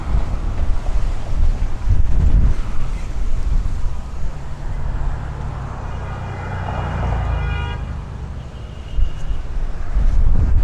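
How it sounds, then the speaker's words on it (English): Strong, gusty severe thunderstorm wind in Bensonhurst, Brooklyn roars and buffets the microphone among buildings, with a steady low rumble swelling and easing throughout. "What you're seeing right now is wind shear, like wind bouncing off of this building."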